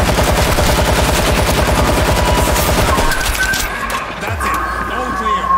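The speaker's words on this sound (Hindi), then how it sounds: "इनके ऊपर भी मैं फायर किए जा रहा हूँ" Rapid automatic gunfire in the zombie shooter World War Z, a loud fast rattle of shots for about three seconds that then cuts to quieter game noise.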